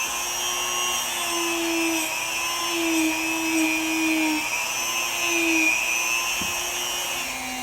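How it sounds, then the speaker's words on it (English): A rotary tool fitted with a polishing brush buffs the roof of a diecast model car, giving a steady, close, high-pitched whine that holds for the whole stretch with slight wavers in pitch and no talk. "Then I go a little bit higher and actually start polishing the top."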